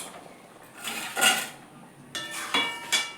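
A pot of mung dal cooked with fish head is lifted off a stove, giving a few metallic clanks and scrapes of the pot against the burner and utensils, close and moderately loud.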